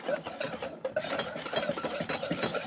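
Sugar and four eggs are stirred together in a pan for a Christmas breakfast, a close, continuous busy scraping and swishing of the utensil with no talk.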